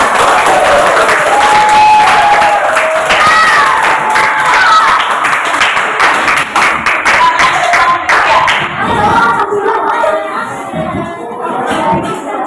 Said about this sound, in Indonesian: tepuk tangan untuk Christian.